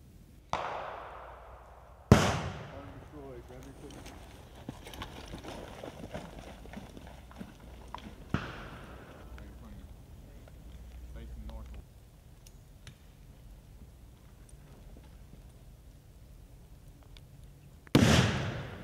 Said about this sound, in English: Now you engage fragmentation grenades.